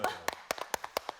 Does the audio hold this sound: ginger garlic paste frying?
no